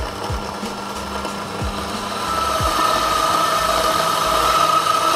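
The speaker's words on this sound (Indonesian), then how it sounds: "oh penggiling kopiku nggak mau keluarin bubuk kopi, nggak bisa keluar bubuk kopinya, gampang, kasarin" Electric coffee grinder whirring as it grinds coffee beans on a coarser setting, a steady motor drone that grows louder partway through, with a few low thumps early on.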